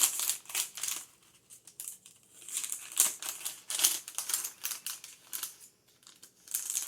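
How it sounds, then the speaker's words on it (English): Scissors snip and crinkle through a cardboard candy box, cutting off its top and bottom, in a series of short crisp cuts and rustles with brief pauses, close and fairly loud. "So, we're going to open our box, same as last time. And cut the top and bottom off."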